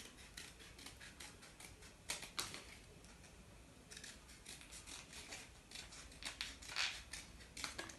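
Scissors snip through a ring at a church kids' craft session, a series of faint, quiet crisp cuts with a few louder sharp clips, alone without talk.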